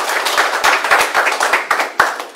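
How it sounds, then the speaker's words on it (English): Dense applause from an audience at a community panel event, a steady crackle of many hands clapping at close range with no voices over it. "So give yourselves a round of applause."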